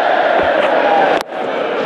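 Stadium crowd at an Australia vs New Zealand T20 cricket match in 2010 roars loudly after a big six, a dense sustained cheer with a brief dip near the end before swelling again.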